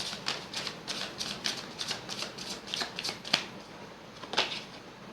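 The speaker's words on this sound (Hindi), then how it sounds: "गाइस अगर आप चाहें तो मेरा ये जो कार्ड शफलिंग है इसको आप स्किप कर सकते हैं।" Tarot cards are riffled and shuffled by hand in a quick series of close, crisp papery bursts, repeating about ten times with no talking.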